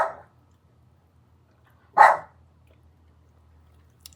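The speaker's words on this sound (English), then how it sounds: "The dog is barking." Oreo, a pet dog, gives two short, sharp barks about two seconds apart, fairly close and alone in an otherwise quiet room.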